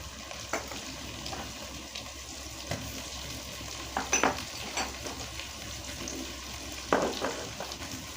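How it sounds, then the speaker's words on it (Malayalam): Onion and chopped ingredients frying for a chicken gravy, a low, faint sizzle with occasional soft stirring knocks from a spoon, fairly quiet and without talking. "അഞ്ചാറ് മിനിറ്റ് വരെ ഇടയ്ക്കിടയ്ക്ക് ഇളക്കി കൊടുക്കണം."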